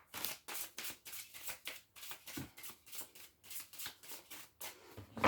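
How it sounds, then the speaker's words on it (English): Tarot cards being shuffled by hand in repeated quick riffling bursts, about a dozen evenly spaced sweeps, close and clear with no talking. "One more shuffle."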